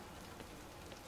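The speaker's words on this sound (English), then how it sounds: "Oh, it's raining today." Rainfall in the farming video game WoMen In Science, a soft, steady patter of raindrops forming a continuous hiss, quiet and even throughout without any voices.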